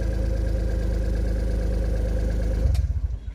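A Suzuki DA62 engine idles steadily and close up after a check-engine fault from a broken oxygen sensor wire was repaired, its smooth hum holding even before shifting briefly near the end.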